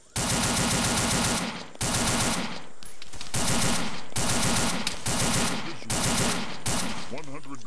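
Sustained, heavy suppressing fire from ARMA 3 roars in long, dense automatic bursts broken by short gaps, loud and close throughout the whole stretch.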